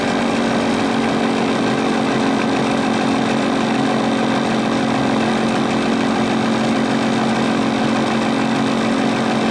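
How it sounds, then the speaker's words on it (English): A Sun distributor tester motor runs steadily as it climbs to 400 RPM, giving a loud, continuous mechanical hum with an even drone throughout, close up and with no talking. "bring the RPM up here to 400. It climbs pretty fast."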